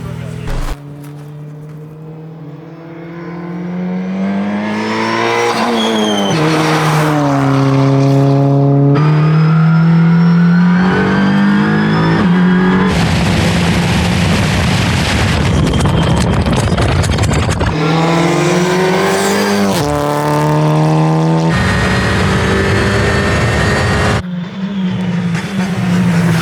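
A one-off Volkswagen mk3 A59 museum rally car starts, revs and pulls away, its engine climbing loudly through repeated rising gear pulls with shifts between them, close and sustained for the whole stretch.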